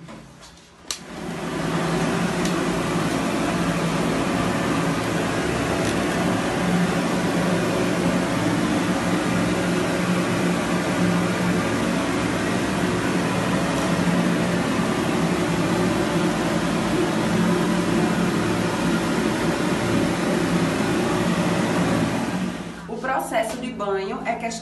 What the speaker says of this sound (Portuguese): O Bono agora vai usar o secador